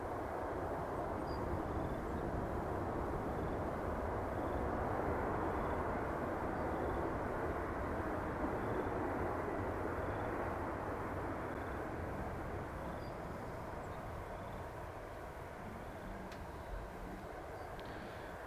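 WestJet airliner at Edmonton International Airport, a steady broadband engine roar holding loud and constant for the whole stretch, easing off slightly near the end, with no voices over it.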